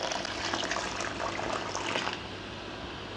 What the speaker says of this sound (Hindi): अब मैं डालती हूँ पानी इसमें